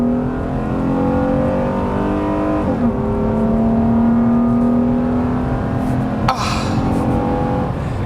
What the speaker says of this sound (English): You can hear VTEC crack. It's the intake.